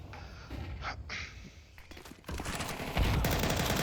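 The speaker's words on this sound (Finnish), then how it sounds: "Munni saa Sapin ammuttua alas" Rapid bursts of gunfire in a competitive video game match, clattering in uneven volleys that grow louder and denser toward the end.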